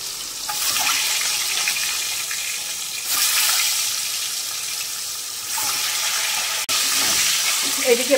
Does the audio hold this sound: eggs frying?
yes